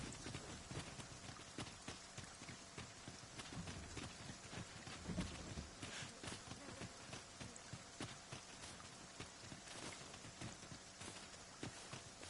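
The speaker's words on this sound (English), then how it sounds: "But it is raining." Steady rain falls in the fantasy video game Dragon's Dogma 2, a dense, even hiss lasting throughout, with soft clopping steps mixed in.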